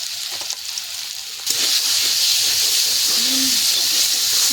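Taro leaf paste with turmeric fries in a pan after tempering, a close, continuous hiss that jumps sharply louder midway and stays strong.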